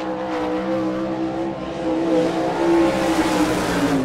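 Sprint cars roar around a dirt oval during time trials at Rossburg, Ohio, a loud rising and falling engine whine as a car accelerates through the turns, continuous throughout.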